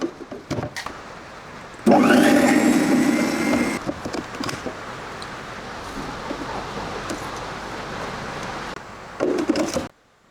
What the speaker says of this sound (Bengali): তারপরে এই আইটেমগুলো আমি একটু ব্লেন্ড করে নেব